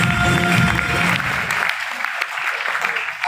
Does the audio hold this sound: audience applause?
yes